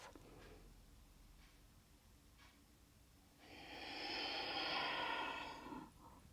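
A long, steady exhale during a yoga flow, a broad airy rush that swells for a few seconds and then fades, following fainter breaths earlier on.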